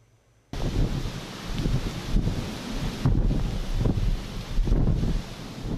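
A strong, sudden gust of wind during a rainstorm with hail reports, roaring broadband against the microphone in surging waves on a central promenade, loud and continuous after a quiet start, with no voices.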